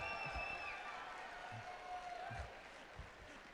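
At a live Brandon Sanderson book release event for Starsight, a large audience claps in a soft, distant, continuous wash of applause. The sound stays faint and steady throughout.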